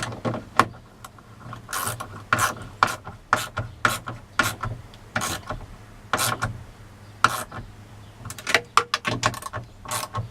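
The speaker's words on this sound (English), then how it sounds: "I always go over with a ratchet" Repeated short ratchet clicks and rasps as a hand ratchet snugs the metal-insert bolts of aftermarket tow mirrors on a 1999–2007 GM truck, irregular bursts close up with quiet gaps, no talking.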